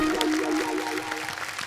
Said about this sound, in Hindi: एक बार जोरदार तालियां हमारे चारों मॉडल्स के लिए